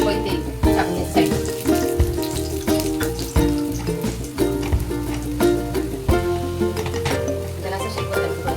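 Oil hisses in a pan with besan burji frying, a steady crackling sizzle partly masked by loud rhythmic music.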